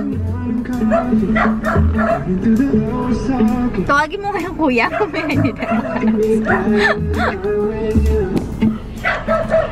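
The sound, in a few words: dog barking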